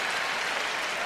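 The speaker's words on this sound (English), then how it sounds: "Well, they cheer anything here." A huge stadium crowd of around 38,000 at the Eurovision Song Contest cheers and applauds in a dense, continuous roar, loud and unbroken throughout the short moment.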